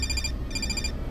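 A telephone rings in two short bursts, a bright warbling trill with a brief gap between, sitting over a low rumbling background.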